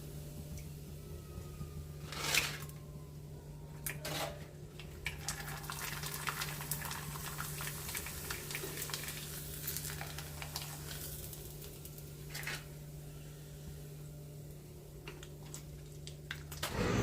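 Potato and sago papads fry in hot oil with a soft, steady sizzle and bubbling. Occasional louder crackling bursts break through a low, constant hum, with no talking.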